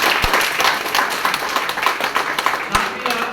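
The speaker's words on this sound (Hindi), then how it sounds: "तो आप सबके लिए एक बार जोरदार ताली हो" Audience at a talk claps loudly together, a crisp, fairly close burst of hand claps with a few sharp individual claps, and a voice faintly present underneath.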